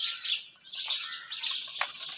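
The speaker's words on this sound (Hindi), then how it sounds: "हमारे पिजन जो है बाहर आ चुके हैं" Pet fancy pigeons out of their cage, with high, busy chirping and twittering bird calls running continuously and fairly close throughout.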